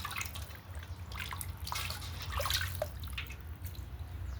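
Water trickles and drips softly into a basin as fish is washed at home, a quiet, uneven splashing with scattered droplet sounds over a low background.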